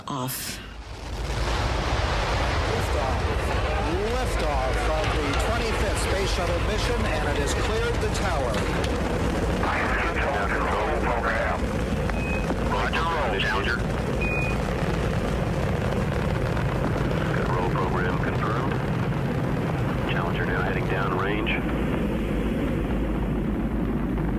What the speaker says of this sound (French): La navette a décollé dans un vacarme assourdissant dû aux 3000 tonnes de poussée